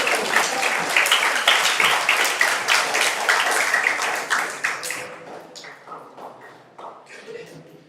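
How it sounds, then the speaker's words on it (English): Applause from a webinar audience, dense clapping for about five seconds that thins out into scattered claps and fades. "Give a round of applause"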